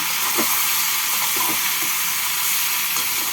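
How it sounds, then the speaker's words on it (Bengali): Potato and onion frying in a pan for potol alu chhechki, a dense, continuous sizzle with a few soft scraping stirs breaking through. "এবার পেঁয়াজের সাথে ভালো করে নাড়াচাড়া করে নেব"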